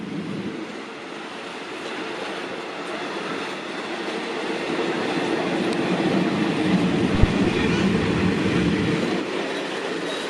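Thai passenger trains, including the Sungai Kolok–Bangkok service, roll into Bang Sue station side by side, a steady close rumble of wheels and carriages with faint clatter throughout, and no talk.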